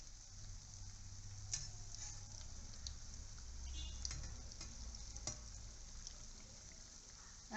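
Tapioca bonda frying in hot oil, a soft steady sizzle with faint crackles and occasional stirring clicks, quiet and continuous with no talking.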